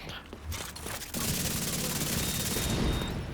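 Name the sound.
gunfire from the video game The Division 2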